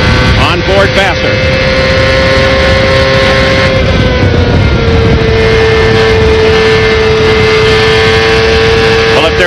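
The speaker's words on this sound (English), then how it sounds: "if there is any question at all about that Toyota engine, both in that car of Vasser's and also Montoya" A Toyota-powered CART race car engine heard from on board at the 2000 Grand Prix of Miami, a loud sustained high-pitched drone with slight pitch shifts, steady and close.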